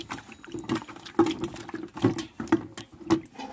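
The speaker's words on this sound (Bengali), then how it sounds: "আলুগুলোকে ভালো করে ধুয়ে নিচ্ছি" Potatoes are washed by hand in water, giving close, rhythmic sloshing and splashing in quick bursts about every half second, with no talk over them.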